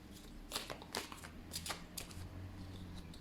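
Oracle cards shuffled and drawn during a new moon reading, with several crisp riffling and slapping bursts in an uneven rhythm, close and clear, without speech.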